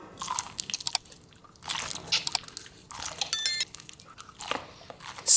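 Crunchy edible slime being bitten and chewed up close, with repeated crisp crunches and wet squishing in irregular bursts, fairly quiet overall.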